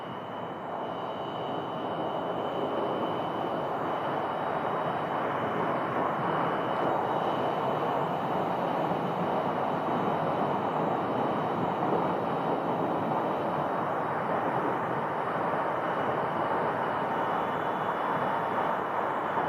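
An airliner taxis at Phoenix Sky Harbor Airport, its jet engines giving a steady, loud whooshing roar with a faint high whine, heard continuously with no talk.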